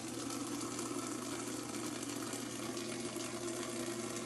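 A Japanese bidet toilet's washing nozzle sprays water in a steady, continuous hiss with a low mechanical hum underneath, even and unbroken throughout.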